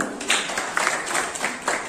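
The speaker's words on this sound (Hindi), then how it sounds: "खुद के लिए एक बार जोरदार ताली बजाइए" Audience at a motivational event marking Netaji's birth anniversary gives itself a burst of clapping, a dense, steady patter of hands lasting a couple of seconds at moderate level, with no speech over it.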